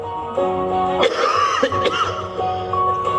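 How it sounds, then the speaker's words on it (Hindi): A man coughs sharply two or three times in quick succession, close by and loud, with a faint background tone beneath. "आप खांसना बंद करोगे प्लीज?"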